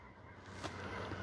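Honking birds, likely geese, call loudly outdoors on a cold, frozen morning at an RC flying field, a dense continuous chorus with no talking.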